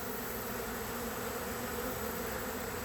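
A swarm of honey bees in the air, a dense continuous buzzing hum that fills the space evenly, steady and moderately loud with no other sounds.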